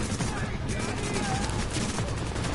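Gunfire crackles in The Division, a dense burst of overlapping shots in a tense firefight mixed under the game's ambient noise and background sound.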